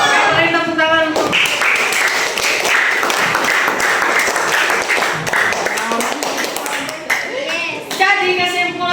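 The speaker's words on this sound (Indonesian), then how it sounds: "Beri tepuk tangan untuk" Classroom of schoolchildren clapping together in a sustained burst of applause, loud and close, lasting several seconds with a brief voice at the start and end.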